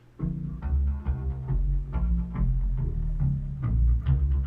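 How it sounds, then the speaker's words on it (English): Deep, bassy synth notes with a plucked, cello-like attack, playing a steady low line close up with no voices. "Very bassy. Almost like a cello that's being plucked."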